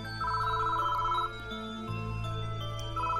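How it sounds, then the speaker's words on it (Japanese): A public phone's bell rings inside a phone booth in the horror video game Shiin. The electronic ringing comes in two bursts over a low, droning background hum. No voices. "すぐに公衆電話のベルが鳴ったんだ。"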